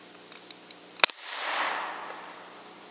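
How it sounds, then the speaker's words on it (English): Umarex Gauntlet .30 caliber air rifle fired over a chronograph: a few faint clicks, then one sharp, loud crack followed by a soft airy hiss that fades away. "I'm gonna go ahead and shoot over the chronograph again"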